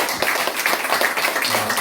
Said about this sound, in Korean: 네, 다 같이 박수로.